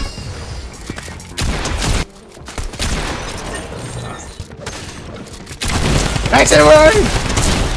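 Bursts of gunfire in Fortnite come through in a busy, loud mix, with sharp cracks and rattling volleys that grow dense near the end while players shout over the action.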